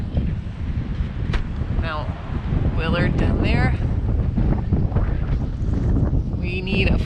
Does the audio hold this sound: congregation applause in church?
no